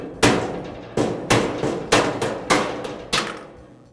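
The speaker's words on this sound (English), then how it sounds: "I'll remove the caster using a large screwdriver and a rubber mallet." Six sharp, evenly spaced blows of a rubber mallet driving a large screwdriver to pry a fixed caster off a Weber grill, each strike distinct and close with a brief ringing decay.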